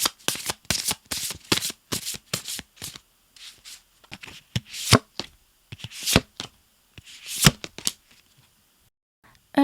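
Tarot cards are shuffled and drawn by hand, a long run of quick riffling, snapping and slapping card sounds, close and crisp with short pauses, no talking.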